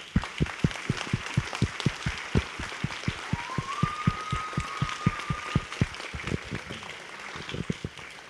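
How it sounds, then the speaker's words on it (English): A live audience at a parks-and-recreation theatre performance applauds, with many hands clapping in a steady rhythmic patter at a distance and a brief whistle partway through. "So give yourselves a round of applause."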